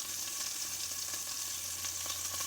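Pot roast sears in a hot pan, giving a steady close sizzle and crackle with faint occasional stirring clicks and a low hum underneath.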